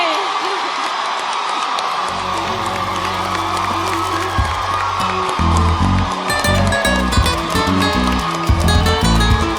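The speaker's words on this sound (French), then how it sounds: "On l'applaudit." An audience at a Miss Burkina Canada pageant event cheers and applauds amid crowd noise, with music and singing rising partway through and loud, busy sound throughout.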